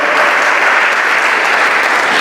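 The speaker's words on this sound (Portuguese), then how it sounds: "Dá mais um aplauso aí." A church congregation breaks into loud, dense applause, a continuous wash of clapping at close range with no pauses.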